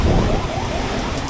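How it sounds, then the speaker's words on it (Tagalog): Heavy rain pours down steadily outdoors, a dense, loud hiss of drops across the whole clip with no voices. "Grabe. Ang lakas ng ulan mga boss."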